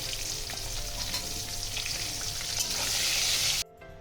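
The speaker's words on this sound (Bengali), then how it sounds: "এবার পটলগুলোকে লাল লাল করে ভেজে আমি তুলে নেব।" Halved pointed gourd (potol) with some peel left on fries in hot oil, a dense, steady, close sizzle with faint crackles that cuts off abruptly near the end, with no talking.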